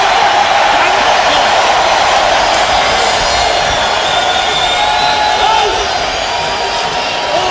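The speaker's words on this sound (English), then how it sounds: "A lot of noise from this crowd here in Orlando" A stadium football crowd in Orlando roars as one steady, dense wall of noise, loud and unbroken from start to finish.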